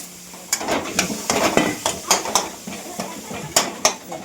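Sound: potato masala frying and being stirred in a pan

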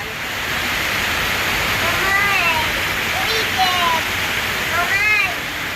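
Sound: rain

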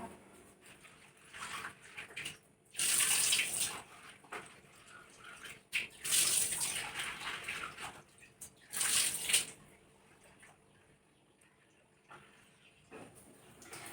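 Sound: washing lentils under running tap water

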